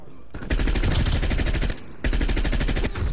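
Rapid automatic gunfire from a player's weapon in Call of Duty: Cold War multiplayer, two long close bursts separated by a short pause.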